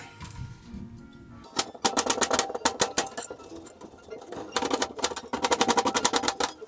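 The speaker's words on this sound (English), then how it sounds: "And these onions, I cut them in a regular manner." Onions being chopped with a knife on a cutting board, quick rapid bursts of sharp, close taps in fast rhythmic runs with short pauses between them.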